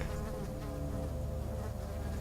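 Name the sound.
flies buzzing in the video game Amnesia: The Dark Descent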